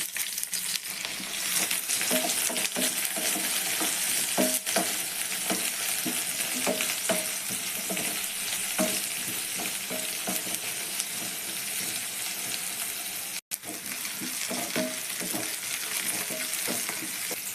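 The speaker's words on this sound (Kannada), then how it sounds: "ಎಣ್ಣೆ ಬಿಸಿಯಾಗಿದೆ, ಈರುಳ್ಳಿ ಹಾಕೊಂತಿದ್ದೀನಿ." Chopped onions frying in a spoonful of hot oil in a pan, a continuous close sizzle with occasional scraping and stirring clicks, steady and fairly quiet throughout, with no talking.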